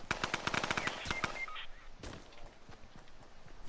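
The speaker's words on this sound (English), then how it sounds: "She was shooting from somewhere." Rapid automatic gunfire bursts in the video game Fortnite, loud and close, a dense run of shots in the first second and a half, then a single later blast fading into a quieter game background.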